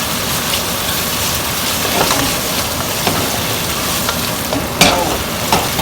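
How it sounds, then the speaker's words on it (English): Shrimp frying in a hot pan over high heat for Thai red curry fried rice, a loud, dense, continuous sizzle with occasional sharper crackles and spatula scrapes, close up. "So the shrimp starts cooking"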